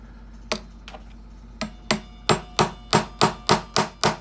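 A roll pin being driven out of a pinball flipper assembly with a hammer: about ten sharp metallic taps, at first sparse, then a steady evenly spaced run of close, loud strikes, with no talking.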